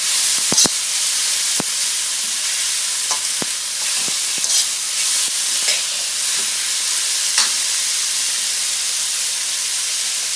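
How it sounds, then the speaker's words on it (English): Ingredients for grilled tilapia are stirred as they fry in a pan, with a loud, constant hiss broken by sharp spatula clicks and scrapes at irregular moments, close up and without voices. "So leave this on for a bit and just keep stirring"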